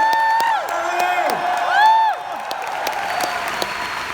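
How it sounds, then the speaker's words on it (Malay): Audience applause at a recognition event celebrating a new Double Diamond achiever, with cheers and whoops rising over clapping while voices call out across the room. "Satu tepukan tahniah untuk anda"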